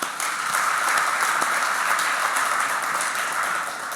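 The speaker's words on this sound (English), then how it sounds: "So give yourself a round of applause for that." Sustained applause from an audience at a meeting, a dense, even wash of many hands clapping at moderate distance, holding steady throughout with no voices on top.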